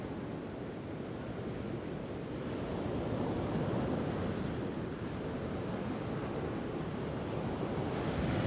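Ocean waves crashing on rocks below the Carrapateira cliffs in Portugal, a continuous roaring surf wash mixed with wind buffeting, steady and fairly loud with no voices.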